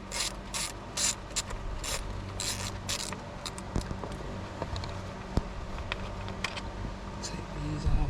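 Hand ratchet loosening valve cover bolts on a 2006 Toyota Sienna engine, giving rapid close metallic clicking in short irregular bursts with pauses and occasional clanks of tools.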